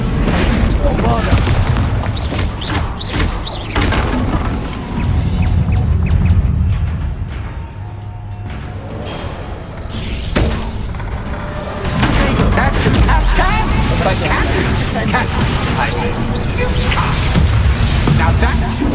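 Bombarda explosion spell in Hogwarts Legacy, cast several times in combat: loud booming blasts and crashing impacts with whooshes, mixed with game sound effects and character voices.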